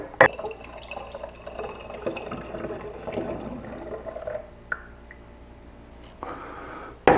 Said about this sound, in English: that was a good thing to splash it in there